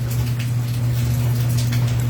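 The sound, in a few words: heavy rain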